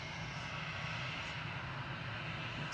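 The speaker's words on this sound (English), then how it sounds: "Flight 7695, A320 touching down" An EasyJet Airbus A320 touching down at Manchester Airport, a steady distant roar of engine noise heard alone, with no distinct impact.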